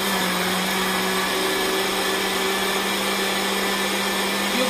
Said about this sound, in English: So we're going to start blending now